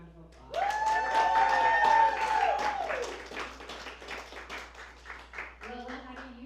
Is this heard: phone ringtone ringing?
no